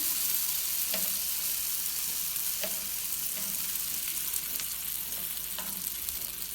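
Sfenj dough fries in a pan with a little oil, a steady close sizzle with soft periodic taps as pieces are handled, and no voices.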